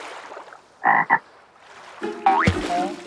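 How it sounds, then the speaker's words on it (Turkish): A cartoon frog croaks in a Turkish children's cartoon: a loud, close double croak, a pause, then a longer croak that bends in pitch, with no talking over it. "Kurbağacık bize merhaba der misin?"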